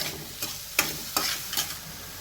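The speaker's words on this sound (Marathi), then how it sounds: "एक 2 मिनिटं थोडासा गॅस मोठा करून परतून घेते." Onion and tomato being sautéed in a pan over a raised flame, a soft steady sizzle broken by four distinct scraping stirs of a spatula, close and alone without talk.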